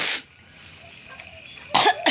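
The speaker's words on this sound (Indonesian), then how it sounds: "Batuk tok." A single sharp cough, then a quiet pause with faint background sounds, and a second harsh cough near the end, both close and loud.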